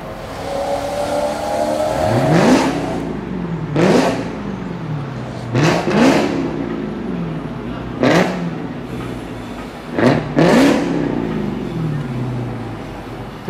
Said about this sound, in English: this Hellcat just got exhaust system done. Sounds great.